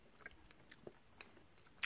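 Faint, close chewing of a Ruffles raspberry and coconut sweet, with soft irregular crunches and mouth clicks spaced through quiet background.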